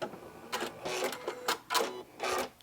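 A sewing machine backstitches on a fabric sewing tool holder, producing several short bursts of rapid mechanical clatter separated by brief pauses, close and moderately quiet.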